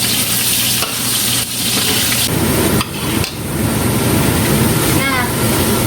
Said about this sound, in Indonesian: Kemudian saya mau menggoreng jahe yang dipukul-pukul tadi ya.